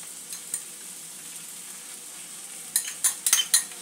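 Papaya and potato with poppy seeds are stirred in a pan, with quiet sizzling at first and then a run of close, sharp spoon scrapes and clinks against the pan near the end.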